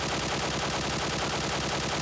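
QBZ rifle hip-fired in PUBG Mobile at the Sanhok map: a continuous, rapid stream of full-auto shots, loud and close, running unbroken for about two seconds.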